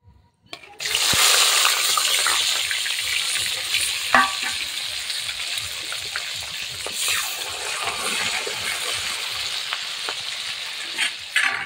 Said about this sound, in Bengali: পেঁয়াজ লঙ্কাটা একটু ভাজা হয়েছে